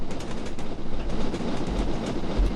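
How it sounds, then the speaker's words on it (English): In the Train Simulator 2016 video game, a steam train rolls along with a steady, dense rumble and rhythmic clatter, heard close and continuous without talk. "So you can actually hear the engine, the steam train engine, change a little bit."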